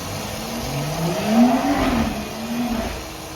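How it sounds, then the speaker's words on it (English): A car drives past outside, a medium engine swelling to a peak and fading again, heard moderately from indoors with no talking. "a car going by, and we get that every day"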